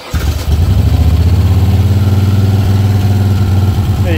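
An engine with the choke on starts with a quick crank and catches at once, then settles into a loud, steady, rhythmic idle heard up close.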